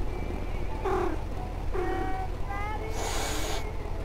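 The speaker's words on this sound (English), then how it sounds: "Why did he just hiss at me?" A cat in the video game Night Bus gives a few short breathy hisses and meow-like cries, with game music or tones in the background and a higher hiss near the end.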